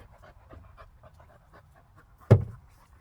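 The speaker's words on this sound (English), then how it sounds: "Oh, good dogs. Good dogs." Dogs pant in quick, steady breaths close by inside a country home, with a single sharp thump like a door knock or bump partway through.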